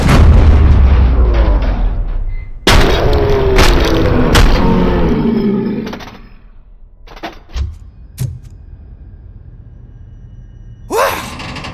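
Gunfire in the video game RoboCop: Rogue City, with heavy booming shots and sharp cracks in a dense opening flurry, followed by a few scattered single reports and a final blast after a lull.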